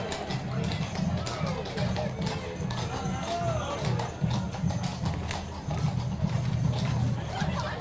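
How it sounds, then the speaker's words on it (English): Clydesdale horses clip-clop steadily along a parade route at a tulip festival, hooves beating a continuous rhythm at moderate distance under crowd chatter and an announcer's voice. "Always love the Clydesdale horses."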